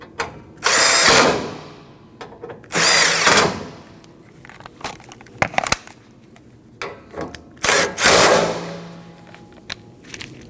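Power tool driving radiator support bracket bolts on a 2012–2021 Nissan NV2500 with a 5.6L V8, heard as three loud, close whirring bursts with ratcheting clicks and handling noises between them, no talk.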